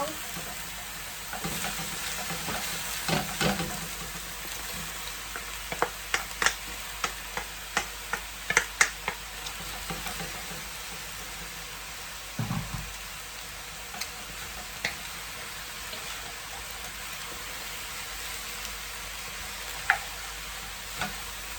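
Green vegetables fry in a pan for a Jamaican-style chicken stir fry, giving a steady, close sizzle with scattered sharp ticks and pops of stirring throughout.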